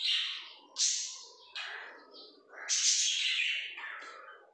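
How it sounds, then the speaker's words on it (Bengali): Several birds chirp and call in quick overlapping bursts at a pigeon and bird farm, bright, fairly close and continuous, with no talk over them. "অনেক পাখি আছে ভিউয়ার্স"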